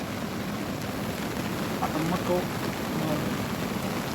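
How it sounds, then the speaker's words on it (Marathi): Steady rain hisses evenly throughout, a constant wash of falling water with no pauses. "नेमका पाऊस चालू झाला"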